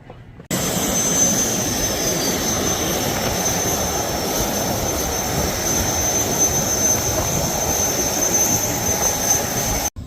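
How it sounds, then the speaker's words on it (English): Steady jet-engine roar fills an airliner cabin in flight, a loud, unbroken broadband drone with no voices over it. "We're on the plane."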